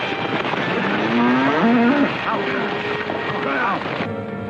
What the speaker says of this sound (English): Just some cattle on the track.